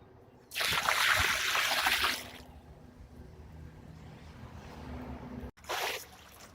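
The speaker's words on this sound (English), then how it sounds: "I'm rinsing it with cold water" Running cold water gushes loudly over fabric for a couple of seconds, then drops to a softer steady trickle before a second brief rush of water near the end.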